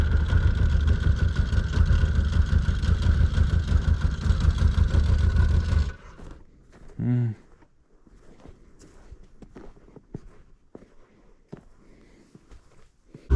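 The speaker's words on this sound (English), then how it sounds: "now it's going, now it's idling like perfect now though" Yamaha RX1 snowmobile engine running after a cold start from months parked, a loud, steady idle rumble for about six seconds, then cutting off, leaving quiet footsteps, handling noises and a brief faint tone.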